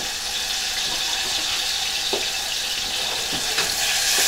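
Sofrito sizzling in hot olive oil in a pan, a steady dense crackling hiss with a few faint clinks of stirring, close up and without talk.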